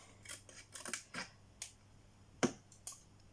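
Quiet, close snips of scissors cutting paper for a paper craft box, a handful of short crisp cuts at an uneven pace with soft rustling.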